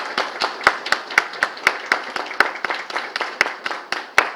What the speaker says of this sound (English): And louder, please, louder, clapping.